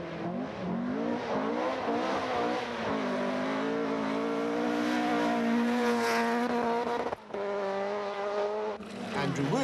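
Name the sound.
Opel Kadett 400 rally car driving on a rally stage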